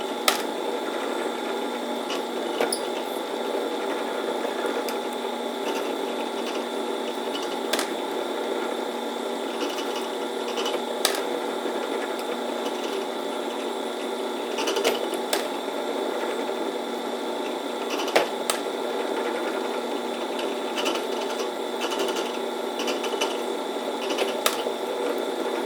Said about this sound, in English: the drill press is set at 620 RPMs